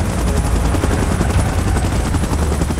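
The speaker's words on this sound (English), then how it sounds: "Chopper in position." A helicopter in the video game PUBG Mobile gives a loud, steady rotor thrum with a fast throbbing pulse, close and continuous throughout with no voices.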